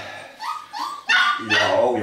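A four-week-old Berger Blanc puppy gives a series of short yips and whimpering barks that grow louder toward the end, close to the listener, with a person's voice nearby.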